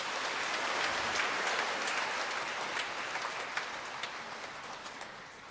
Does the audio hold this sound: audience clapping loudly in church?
yes